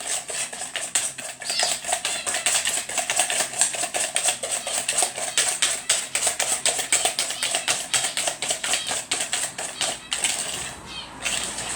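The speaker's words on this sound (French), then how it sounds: "Et on vient mélanger le tout. Les œufs et les sucres." A whisk beats eggs and sugar together in a bowl, giving a fast, steady run of light metallic tapping and clicking that continues throughout at close range, with no talking.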